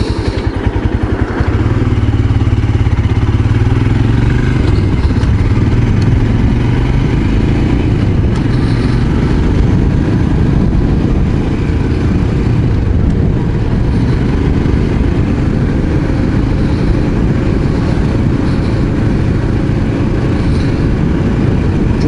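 A Royal Enfield Scram 411 motorcycle engine rumbles steadily while riding, a loud continuous low throb with wind noise, holding an even pace throughout with no talking.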